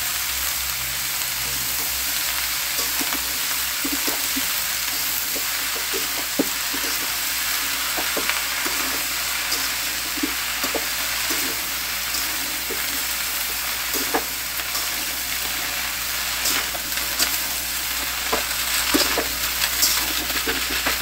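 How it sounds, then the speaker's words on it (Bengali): Onion stalks frying in a pan give off a steady, close sizzle with scattered crackles and pops throughout, no voices. "এগুলো এইভাবেই ভেজে নেব।"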